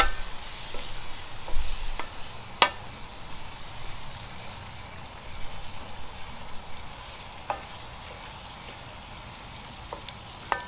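Beef broth gravy sizzles steadily in a pan over an open fire while it is stirred, with a broad crackling hiss running throughout and occasional sharp scrapes and clicks of the spoon against the pan.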